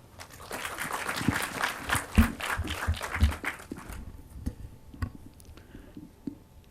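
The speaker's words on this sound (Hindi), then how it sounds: "आपके स्वागत में तालियां" Listeners at a book launch in Pune applaud softly for a few seconds before the clapping thins into scattered, isolated claps in a quiet room.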